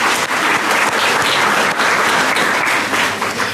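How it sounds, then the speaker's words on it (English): A large audience at an alumni event breaks into a loud, dense round of applause, continuous and close, with no voices heard over it. "let's give a very big round of applause for those who are here"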